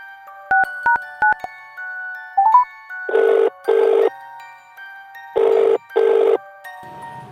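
A phone call rings out after dialing: two pairs of loud electronic ring bursts, each pair close together with a pause between, preceded by short keypad-like beeps and tones, with no talking.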